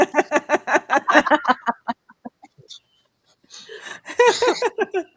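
A rooster lets out rapid, loud, rhythmic pulsed calls in two bursts separated by a short pause. The calls sound close and clear, with little else in the background.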